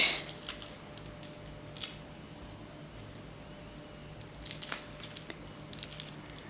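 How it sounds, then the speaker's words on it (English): Soft scissor snips and faint crinkling come from material being cut for a rose bouquet cake topper, a few brief quiet cuts scattered over a hushed room background. "I want to cut it here so I can cover it nicely."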